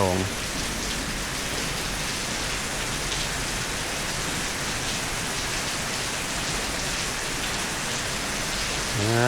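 Steady rainfall during the rainy season in Vientiane, Laos, a dense continuous hiss of drops hitting surfaces, even and close throughout with no breaks.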